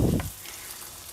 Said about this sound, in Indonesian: Kita goreng si jamur ieu.